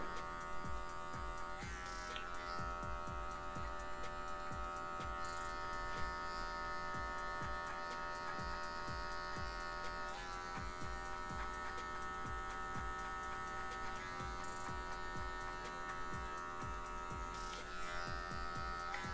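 Electric hair clipper fitted with a guard, blending a fade on afro-textured hair, with a continuous close buzz that shifts slightly in pitch as it presses into the hair and lifts away.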